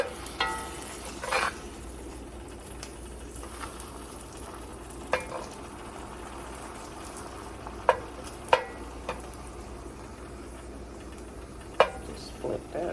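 Taco filling frying in a pan, a steady soft sizzle broken by repeated sharp scrapes and clinks of a utensil as it is flipped several times.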